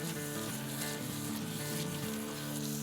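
Ground keema sizzles and fries steadily in a pan while being mixed with spices, a continuous close crackle with scraping of the spoon and no talk.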